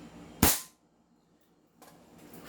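An upgraded airsoft pistol fires a single loud, sharp crack close by through a chronograph, followed by quiet and then a low rustle of handling.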